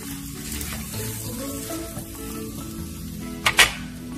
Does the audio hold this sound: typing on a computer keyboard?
no